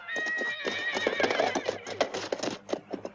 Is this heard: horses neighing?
yes